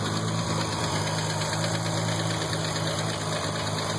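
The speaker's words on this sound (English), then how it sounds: "ticking sounds are bad, particularly after running really high boost" A 900+ horsepower Toyota Supra turbo engine idles steadily up close after running 40 pounds of boost, with a fast, regular fault ticking running through its loud, even drone.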